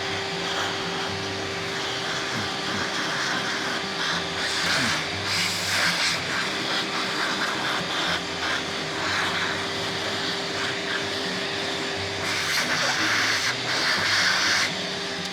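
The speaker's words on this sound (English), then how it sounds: "Let's go ahead and vacuum this up real quick." A loud, steady vacuum cleaner drone running close by with a constant whine, its pitch briefly shifting as it sucks up steel wool particles.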